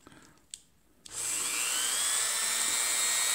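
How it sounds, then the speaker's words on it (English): Power grinder cutting through the middle of a fiberglass atlatl dart. A couple of clicks come first, then the tool spins up into a loud, steady, high-pitched grinding whine that holds to the end, close by and with no speech. "just turn this on and grind it right through the center"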